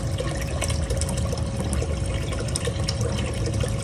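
Creek water rushes steadily into a gold-panning sluice, a continuous close splashing and gurgling flow with no talk.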